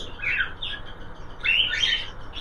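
Pet cockatiels give two short bursts of bright chirping and tweeting, moderately close and fairly quiet against a soft background hum, with no talking.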